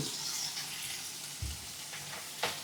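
Onions fry in a pan with salt added, giving a steady faint sizzle with a few scraping stirs and clinks near the end.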